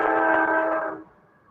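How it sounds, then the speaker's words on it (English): A passing train's horn sounds as one loud, sustained blast that fades away after about a second, heard from inside an office during a training session. "I apologize about the train."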